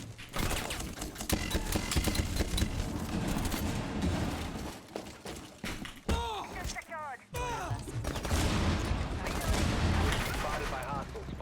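Rapid bursts of gunfire in Rainbow Six Siege rattle almost continuously, with scattered single shots and thuds, and voices talk over them throughout.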